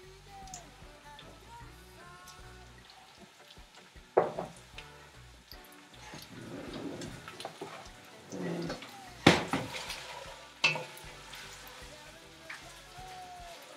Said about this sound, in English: So we're just gonna sweat out these potatoes and onions for a little bit